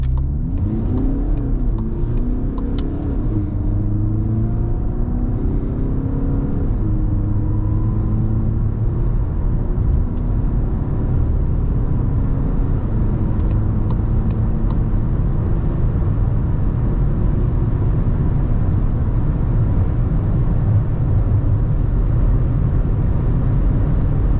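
A Skoda Kodiaq L&K 2022 with a 2.0 TDI 200 hp diesel accelerates hard in sport mode, its engine drone climbing steadily in pitch through gear changes, loud and continuous from inside the cabin with no talk.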